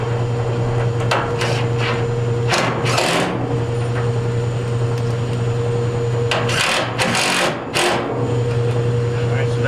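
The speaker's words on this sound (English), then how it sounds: "So now we're gonna mount our pump." A Hotpoint washer drain pump is fitted into place, making scattered knocks, clicks and scraping handling noises close by, with a steady machine hum underneath.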